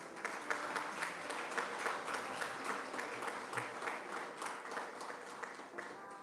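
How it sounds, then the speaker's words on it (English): Audience applause at a Sikh high achievers award ceremony, steady sustained clapping from a crowd, fairly faint and distant, continuing evenly throughout. "So a round of applause for him, please."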